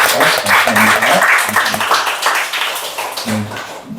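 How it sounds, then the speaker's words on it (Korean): Congregation applauding together at a Sunday afternoon church revival service, a dense steady clapping that fills the room for about four seconds with a few voices mixed in. "우리 다시 한번 우리 박수로 감사하며 영광을 드립니다."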